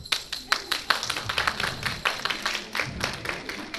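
Women in a comedy club audience clap in a scattered, uneven round of applause, with sharp individual claps rising and falling over about four seconds at moderate volume.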